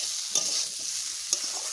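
Fried jackfruit being sautéed in a homemade spice masala, the pan giving a steady soft sizzle with a couple of brief stirring scrapes, close and alone.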